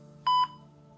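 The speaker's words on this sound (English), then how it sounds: "So we don't have to listen to the beeping." A short electronic beep from the space game To The Edge of the Sky, one brief double-pulsed tone over a quiet steady hum.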